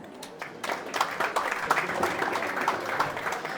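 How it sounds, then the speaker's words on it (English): A preschool annual day audience claps steadily, applause swelling after a quiet start into a dense patter of many hands at moderate distance. "welcome with a big round of applause"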